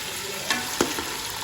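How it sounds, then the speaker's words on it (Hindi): Chicken sizzles as it fries in a pan, a steady hiss broken by a few soft scrapes of a spoon stirring the pieces, close and alone with no voices. "ये जो चिकन मैंने ऐड किया था वो अच्छी तरह से इसमें फ्राई हो चुका है और अच्छी तरह से भून चुका है"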